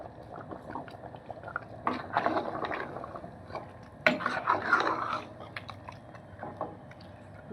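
Mutton sambar made with head and trotters bubbles in a pot with a steady low simmer, broken by bursts of clinking metal utensils and stirring against the vessel.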